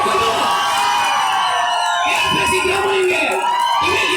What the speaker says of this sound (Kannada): ಎಲ್ಲ ವಿದ್ಯಾರ್ಥಿಗಳ ಪರವಾಗಿ ಜೋರ ಚಪ್ಪಾಳೆ ಬರಬೇಕು